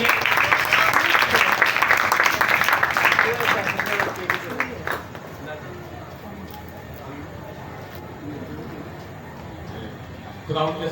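A church congregation claps loudly in a dense burst of applause that fades after a few seconds into murmuring room noise, with a voice speaking afterward.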